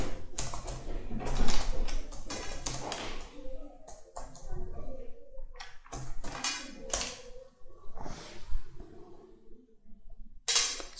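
Quick clicking keystrokes of a command typed on a computer keyboard, coming in uneven bursts with short pauses, close and fairly clear.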